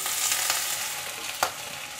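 Ginger and garlic frying in hot ghee with whole spices for mutton paya soup: a steady, bright sizzle close by, with a couple of quick stirring scrapes and no voices.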